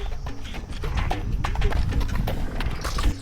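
A horse's hooves clip-clop steadily and loudly at close range on hard ground, a continuous rhythmic clatter with little voice present.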